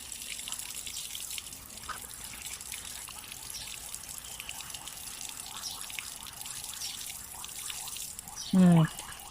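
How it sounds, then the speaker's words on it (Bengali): Toy cars are washed in a container of green water, giving a steady close trickle and dribble with small drips throughout and one brief louder splash near the end. "ধুচ্ছি আমরা, ধুচ্ছি।"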